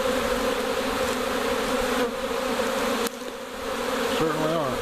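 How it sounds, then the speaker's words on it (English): A honey bee swarm fanning at the entrance of a box, a dense, steady buzzing drone from many bees close to the microphone, heard alone without talk. "We're fanning right here."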